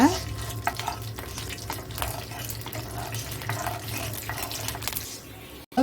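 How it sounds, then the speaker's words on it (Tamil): Mustard seeds spluttering and urad dal frying in hot oil, a close, quiet crackle with scattered pops and stirring scrapes, no talking. "ஸோ கடுகு பொரியுது, அப்புறமா உளுத்தம்பருப்பு கொஞ்சம் ப்ரௌன் ஆகிட்டே வருதுங்க."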